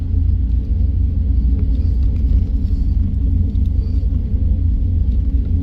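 Steady low rumble of a 1989 Chevrolet Camaro LS IROC race car with a developing fault, a loud continuous drone and faint higher whir running evenly throughout with no speech.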